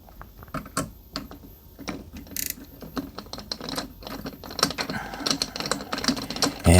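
A Phillips screwdriver turning out a screw from the cover plate of a digital safe, giving a close series of small ratcheting clicks and metallic scrapes that grow busier toward the end.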